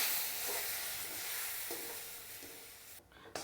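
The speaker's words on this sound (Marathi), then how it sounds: "आपण पाव वाती घेतलेलं दूध इथे घालून मी पूर्ण मिक्स करून घेणार आहे" Milk is stirred into roasted semolina in a pan for rava modak, giving a soft continuous sizzling hiss with faint scraping strokes. The sound is quiet and close, ending in a brief clatter.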